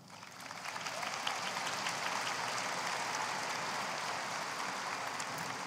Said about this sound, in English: Graduates, let's express an enthusiastic, appreciative thank you with our applause.